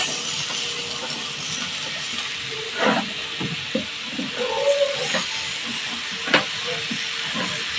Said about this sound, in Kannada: ಮಶ್ರೂಮ್ ಹಾಕ್ತಾ ಇದ್ದೀನಿ ಇವಾಗ ಕಟ್ ಮಾಡಿರೋದು ಉದ್ದುದಕ್ಕೆ